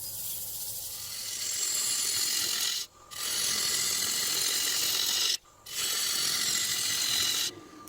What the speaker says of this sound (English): My tool of choice today is a 5/8 inch bowl gouge.